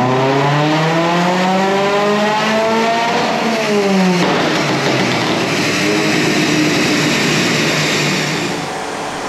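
Abarth car engine revving hard on a dynamometer, pitch climbing steadily for about four seconds, then dropping into a loud, rough sustained roar and fading slightly at the end.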